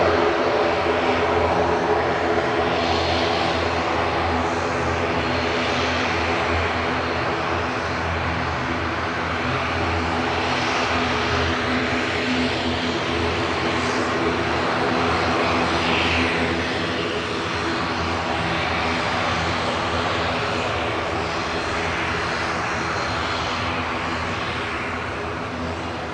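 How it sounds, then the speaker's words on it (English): An Air Dolomiti regional airliner flying for Lufthansa out of Manchester Airport, its engines giving a loud, sustained roar with a steady hum, up close throughout and easing slightly toward the end. "Here's the little Air Dolomiti operating for Lufthansa, flight 940."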